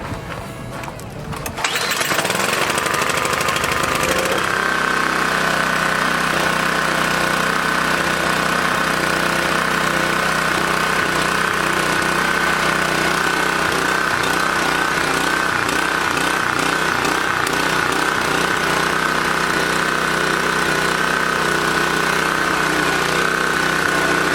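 A small gasoline engine fueled with old 10% ethanol pump gas catches and runs steadily, with a loud, continuous buzzing drone close to the microphone that persists for the entire stretch after a short scuffle at the start.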